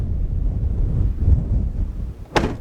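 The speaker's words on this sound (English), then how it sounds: "it's just kind of hard to think outside because it's so loud and there's a lot going on with all that wind" Strong desert wind buffets close against the microphone in a low, continuous roar, with a brief sharper gust near the end.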